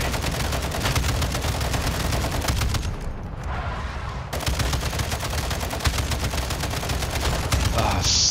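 Loud, dense bursts of gunfire in a video game, with rapid repeated cracks that pause briefly before resuming, under faint talk.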